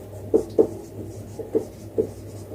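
Numbers written by hand, with a few soft, distinct pen taps and strokes on paper against a quiet hum.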